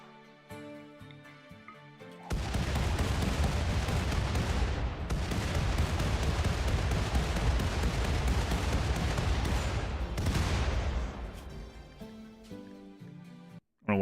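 Grenades exploding in the RimWorld video game, a sustained roar of blasts and gunfire-like bursts that erupts suddenly, holds loud for several seconds, then fades over a quieter game-music bed.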